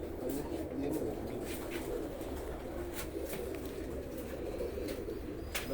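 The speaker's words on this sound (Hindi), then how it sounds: "आज यूएई के नायाब कबूतर दिखा रहे हैं" Rare UAE pigeons coo in low, steady, throaty murmurs, with a few faint chirps, in a noisy loft that has a constant background hum.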